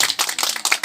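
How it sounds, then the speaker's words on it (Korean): A church congregation clapping at an outdoor worship service, a short burst of close, dense handclaps from a small group, fairly loud and alone without speech. "박수"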